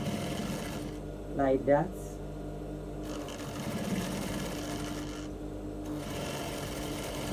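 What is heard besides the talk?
sewing machine stitching a fabric dart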